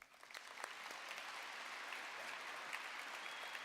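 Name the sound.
audience applause for conference organizers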